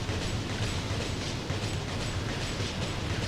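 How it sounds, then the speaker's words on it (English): Steady train-like rumbling from the video game Snowbreak, a continuous low mechanical drone with faint rhythmic clatter, fairly loud and unbroken with no talk. "It sounds like I'm on a train."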